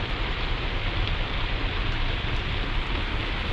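Heavy rain pouring down outside an RV parked in a Walmart lot. A dense, steady hiss of rainfall fills the whole clip with no pauses and no voices.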